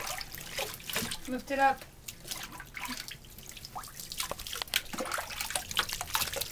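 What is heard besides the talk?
rinsing a Sheltie dog with a hose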